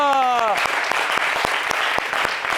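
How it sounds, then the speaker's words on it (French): A studio audience on a French television entertainment show applauds as a singer arrives, steady dense clapping after a brief sung or tonal note at the start, loud and close throughout. "Vous applaudissez juste à ce qu'elle arrive."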